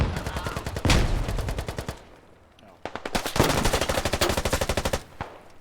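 Machine gun fire in a combat video game: two long rapid bursts of rattling automatic shots, loud and close, separated by a brief lull, with faint background noise and a voice partly under it.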